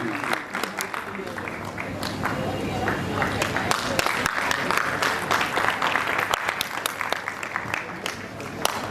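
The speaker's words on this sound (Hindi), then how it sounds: "प्लीज क्लैप, जोरदार तालियों से स्वागत करिए।" An audience claps at a convocation ceremony of Jamia Hamdard University. The dense applause is sustained and fairly close, and a voice speaks over it.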